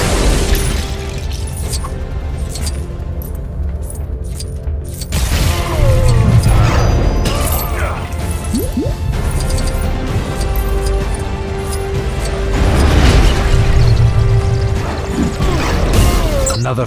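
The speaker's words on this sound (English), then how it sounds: "Another fiery explosion with more of Zod's men trying to hunt me down." Fiery explosions and crashing debris in the LEGO Batman 3 video game, loud booms and smashes layered over a continuous music score, two big surges of blasts.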